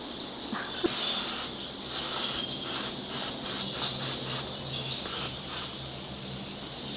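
Bursts of insect spray hiss from an aerosol can aimed at mosquitoes, several short sprays and a longer one, close to the microphone, with no voices.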